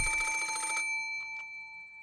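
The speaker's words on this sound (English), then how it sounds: "At that time, suddenly, the piercing sound of a phone rang through the room." An antique telephone in a study in the Umineko When They Cry visual novel gives one loud, shrill bell ring lasting under a second, followed by a fading ringing tail and a couple of faint echoes.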